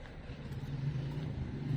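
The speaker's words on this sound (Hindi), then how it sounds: "ट्रैफिक शुरू हो गई है।" Road traffic beside the Nile near Luxor Temple at dawn, a faint low engine rumble that rises and falls steadily, heard from a distance with no talk.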